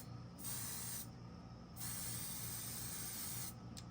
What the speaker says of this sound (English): You can take some hairspray and fluff it up.